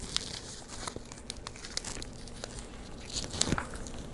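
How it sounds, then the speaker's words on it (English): Satin ribbon crinkles and rustles close by as it is doubled over, looped, cut and wired onto a florist pick for a holiday centerpiece, with scattered soft crackles and small snips. "you double the ribbon over onto itself, give it a loop, cut the edge, wire it with the florist pick"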